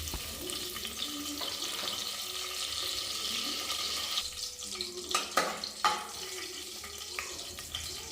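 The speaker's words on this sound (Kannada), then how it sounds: "ಎಣ್ಣೆ ಬಿಸಿ ಆದಮೇಲೆ ಪಲಾವ್ ಎಲೆ, ಸ್ಟಾರ್, ಮರಾಠಿ ಮೊಗ್ಗು, ಏಲಕ್ಕಿ ಹಾಗೂ ಲವಂಗನ ಸೇರಿಸ್ಕೊತಾ ಇದ್ದೀನಿ" Bay leaf, star anise, marathi moggu, cardamom and cloves go into hot oil in a pressure cooker for chicken biryani, giving a steady hissing sizzle with a few sharper crackles and clinks near the end.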